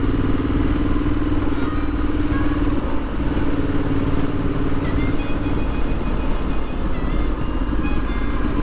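A motorcycle riding along an open road in light traffic: a loud, steady engine drone mixed with wind rumble runs unbroken from start to finish, with no talking.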